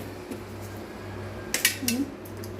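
Sugar being stirred into a cooking pot, a few faint scraping clinks of utensil against metal bunched together midway, over a low steady background hum.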